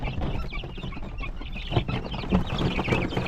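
A flock of small Dekalb White chicks being fed, with dense overlapping cheeps and clucking at close range, continuous and busy throughout.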